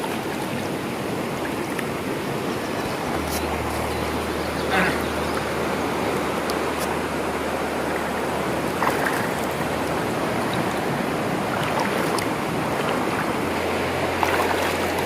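A river in the Philippines, clean and free of plastic and trash, flowing with a steady, even wash of water noise throughout, with a low hum underneath and occasional faint clicks.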